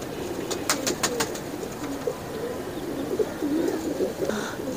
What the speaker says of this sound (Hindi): ये चौधरी सखी साहब वाले 10 नंबर कबूतर हैं।